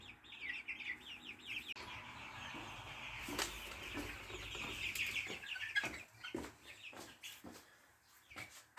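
Chickens cluck and squawk steadily inside a coop, several birds calling over one another at close range with occasional sharp louder cries and some wing flapping, no one speaking.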